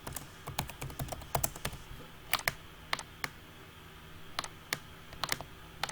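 Keys clatter on a computer keyboard as student names are typed into an Excel sheet, quick irregular bursts of clicks with short pauses between words.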